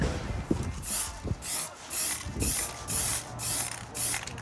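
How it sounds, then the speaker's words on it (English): Yellow spray paint hisses from an aerosol can onto an Ikea bar cart during a DIY gradient paint job, in about six steady bursts of roughly half a second each, close and alone, with a few faint knocks between them. "I'm gonna spray paint it like this."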